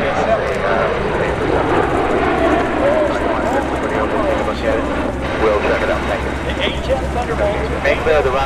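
A-10 Warthog jet roaring overhead during a field attack demonstration at the Cleveland National Airshow, a steady loud engine drone filling the whole stretch with crowd murmur and voices underneath.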